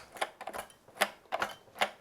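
A plastic part of a portable espresso machine rattling and clacking as it is pressed, giving several short, irregular clicks close up with no talk.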